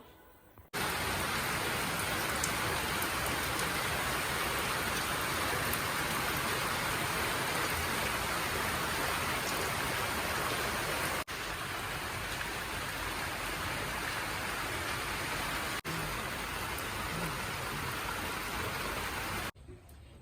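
Shower water running during bathing, a continuous broad hiss of spray that starts abruptly and stays steady, with brief breaks before cutting off.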